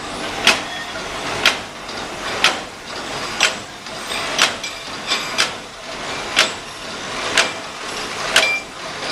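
A Cimtrix enveloper machine forms and crimps envelopes from roll stock. A regular mechanical clack repeats about once a second over a steady whirring hum, with no talk.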